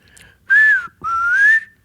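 A person whistles two short, bright rising tones in imitation of the R2-D2 robot, clear and close against a quiet background.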